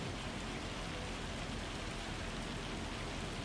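Hail falling in the Farming Simulator video game over farmland and crops, a dense, constant hiss of pelting ice like heavy rain, steady and unbroken throughout with no speech.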